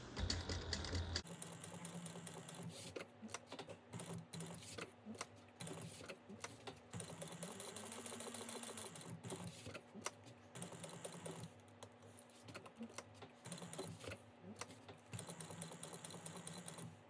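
Sewing machine stitching around a bag seam an eighth of an inch from the edge, a faint steady mechanical whir with light rapid ticking running throughout, with a low hum underneath.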